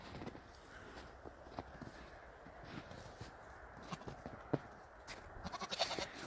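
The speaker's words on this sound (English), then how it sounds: "Once again, Pygmy Nigerian goats." Pygmy and Nigerian goats arriving on a homestead, faint scattered bleats against a quiet outdoor background with light rustling and shuffling hooves.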